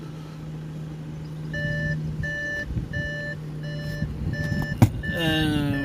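An Audi A4's door-open warning chimes in a steady, evenly spaced series of beeps over a low engine hum, ending with a brief clunk and rattle.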